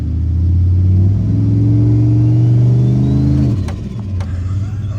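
A Chevrolet Silverado AWD pickup fitted with an FTI 3200 stall converter, held on the brakes in drive, its engine droning loud and steady under load before the revs drop sharply near the end.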